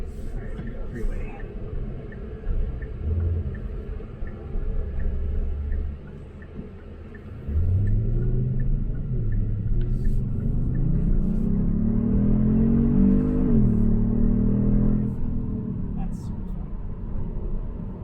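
A 2022 Kia Stinger GT2 accelerating onto a freeway, engine note swelling from a quiet idle into a strong rising rumble with upshifts, heard from the cabin with a voice speaking over it.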